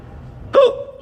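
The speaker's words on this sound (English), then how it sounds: "Oh, I got a nasty case of hiccups." A single sharp hiccup from a woman, a brief voiced catch that rises out of near silence and fades quickly, close and clear.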